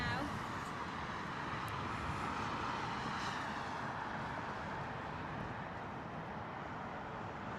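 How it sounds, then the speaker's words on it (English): Lufthansa A320neo airliner departing Heathrow, a distant broadband jet engine roar held steady under the wind, with faint talk nearby. "Our next departure, Lufthansa A320 Neo."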